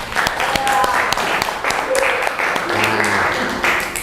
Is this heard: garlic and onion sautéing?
no